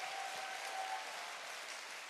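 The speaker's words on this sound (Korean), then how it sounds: "감사한 박수가 나와야 돼" Seated audience at a Korean business success seminar bursts into applause, a thick continuous rush of many clapping hands heard from a distance, even in level and unbroken, with no speech over it.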